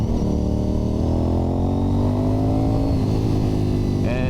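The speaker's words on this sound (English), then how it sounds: "When it's going down the road, it's rumbling, it got that V-twin" A Honda RC51 V-twin motorcycle rumbles steadily on the road, its loud continuous engine drone holding a near-constant pitch with slight rises, close and alone without voices.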